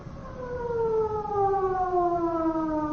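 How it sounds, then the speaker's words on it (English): A civil defense style siren wails steadily at a rocket firing station, its pitch slowly falling over a few seconds, loud and alone in an old radio drama. "With the sounding of the siren"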